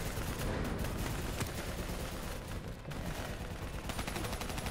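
Video game gunfire in Call of Duty: Black Ops III during a fight against a VTOL and an APC: dense, continuous rapid-fire bursts with loud overlapping shots and no pauses.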